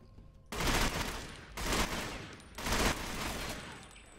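A BKG assault rifle fires in the video game Ghost Recon Phantoms: three loud, evenly spaced bursts of gunfire about a second apart, with no voice.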